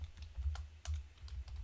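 Typing on a computer keyboard while entering an expression in TouchDesigner, a run of quick, light key taps at an uneven pace, close and fairly quiet, with no talking.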